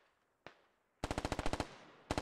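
Automatic gunfire in the military shooter Squad: one sharp shot, then a rapid burst of about a dozen evenly spaced rounds and a short second burst, fairly loud with no talk.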